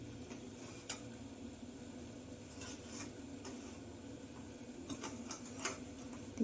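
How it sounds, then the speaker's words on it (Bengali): Small bowls are set down one after another to steam bhapa pitha with a semolina and coconut filling, giving several faint, light clinks spread out over a quiet kitchen background. "বাটিগুলো আমি বসিয়ে দেব।"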